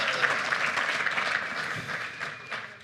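An audience claps steadily in sustained applause at a Coast Guard Auxiliary conference, a dense patter of many hands that fades slightly toward the end.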